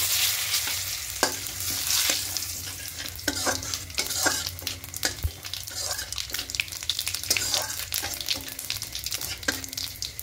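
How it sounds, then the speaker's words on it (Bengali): Whole cumin, two dry red chillies and a torn bay leaf crackle in hot oil for a vegetarian malai potol, a close, busy sizzle with repeated scraping strokes of a spoon stirring the pan and no talk. "ফোড়নে দেব গোটা জিরে, 2টো শুকনো লঙ্কা আর একটা তেজপাতা এরকম ছিঁড়ে দিয়েছি"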